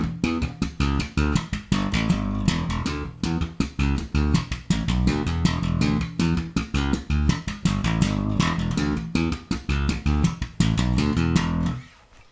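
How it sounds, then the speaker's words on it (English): A bass guitar plays a basic double-thumb slap groove, with rapid, punchy, percussive notes in a tight repeating rhythm. It is played solo and up close, then stops abruptly. "we'll also work towards playing a basic double thumb groove that sounds like this."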